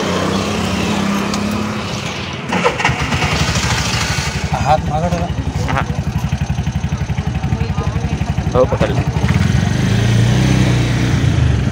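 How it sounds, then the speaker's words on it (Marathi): An auto rickshaw engine cranks to life and settles into a rapid, throbbing idle close by, pulsing loudly under brief conversation between passengers. "बघा रिक्षात बसतो आम्ही आता"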